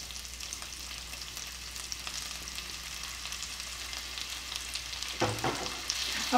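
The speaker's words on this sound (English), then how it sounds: "I'm just going to cook this until the garlic browns" In a skillet, garlic fries with a steady soft sizzle and crackle, close by and fairly quiet, with a brief stirring scrape near the end and no talking.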